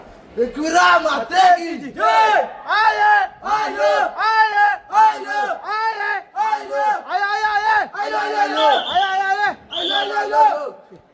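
A dense crowd at a temple palanquin procession in Karjat, chanting loud rhythmic shouts over and over, many voices in unison, close and steady throughout.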